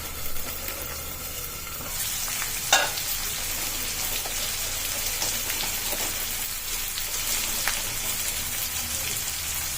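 Thick split pigeon pea dal and green peas cooking in a pan for foxtail millet khichdi, giving a steady soft sizzle and bubbling crackle with a brief clatter of a utensil, close and moderately quiet.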